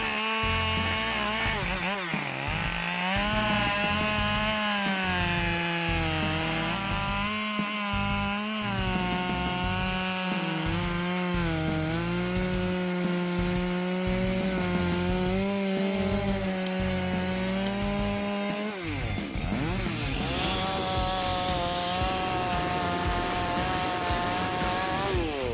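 A Husqvarna 572 XP chainsaw cuts through dry wood. The engine holds a loud, steady high-revving drone that wavers with the load for most of the cut, then drops and shifts pitch near the end as it frees.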